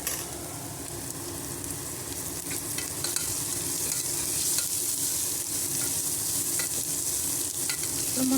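Ginger garlic paste, added after turmeric for a carrot and beans curry, sizzles steadily in a hot pan while a spoon stirs it with scraping strokes, close and continuous throughout.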